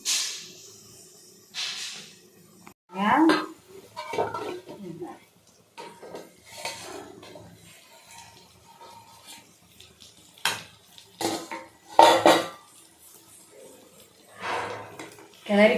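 Soya chunk masala gravy stirred in a pot, with sporadic scraping and clinking of a spoon against metal alongside a faint sizzle, interspersed with quiet talk.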